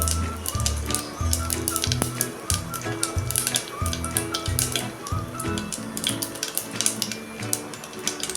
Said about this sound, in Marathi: त्यात आता टाकूया हे अर्धा चमचा मोहरी आणि हे अर्धा चमचा जिरे